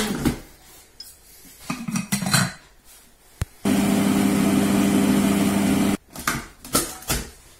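A kitchen robot mixes cookie dough at speed 4, running loud and steady for about two seconds with a constant humming whir. Clattering bowl and utensil knocks come before and after the run.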